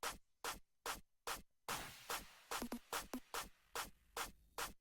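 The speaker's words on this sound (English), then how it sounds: "So yeah, just like fast clap pattern." Fast clap pattern layered with hi-hats in a hip-hop beat, sharp evenly spaced claps punching through a busier tick of hats, loud and close with no talking.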